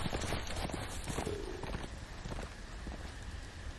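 Horse hooves clip-clop at a walking pace over a dense background wash of ambience in Game of Thrones - A Telltale Game Series, the steps fairly close and fading slightly toward the end.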